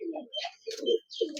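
A Pakistani high-flying teddy pigeon coos close by in a few throaty, rolling bursts with brief gaps between them.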